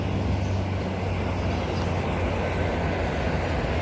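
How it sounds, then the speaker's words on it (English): Perth EMU electric passenger train pulling into Leederville station on a hot day, a steady loud rumble and rolling hum from the train throughout, no talk. "Arriving, we have a Perth service."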